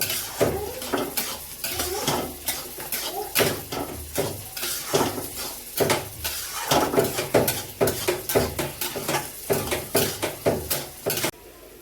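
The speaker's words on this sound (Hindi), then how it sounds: "अब हम डाल रहे हैं चीनी। कैसे चलाना है इसी तरीके से।" Carrot halwa with sugar added is stirred in a metal pan, a spoon scraping and clinking against the sides in a steady, close rhythm of repeated strokes for the whole stretch, with no talking.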